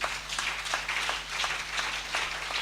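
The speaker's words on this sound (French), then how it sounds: "Alléluia, on acclame le Seigneur" A church congregation applauds during a special worship service, steady dense clapping from many hands filling the room with a continuous rhythmic patter.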